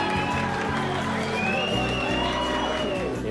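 Audience cheering at a Gumball 3000 award ceremony, a steady blend of crowd noise, whoops, shouts and applause, loud and continuous with voices mixed throughout.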